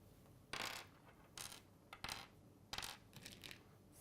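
Coins are dropped one by one and counted out for a division exercise, giving several bright metallic clinks and jingles in irregular bursts, close but faint, with no speech.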